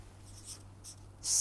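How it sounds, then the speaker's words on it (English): Chalk or pen scratches briefly during a lecture on constant Q analysis, a few faint strokes over steady room hum, ending in a louder scrape, with no one talking. "Let us write that down."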